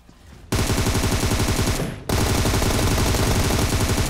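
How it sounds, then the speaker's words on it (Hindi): Rapid automatic gunfire in PUBG Mobile, loud dense bursts of shots that start abruptly, pause briefly, then resume in a sustained rattling stream. "अब सामने से गाइस कोई बोट फायरिंग कर रहा था"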